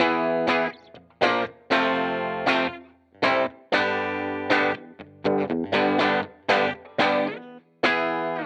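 Distorted electric guitar on the bridge pickup plays a choppy riff of short, bright chords with brief gaps between them, a biting, trebly tone throughout.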